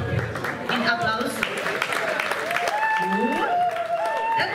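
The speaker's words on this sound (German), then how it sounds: "Ein Applaus." Audience applause at a brass band concert, a steady wash of clapping that carries through the whole moment while talk and other voices sound over it.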